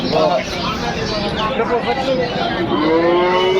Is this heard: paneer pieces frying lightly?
no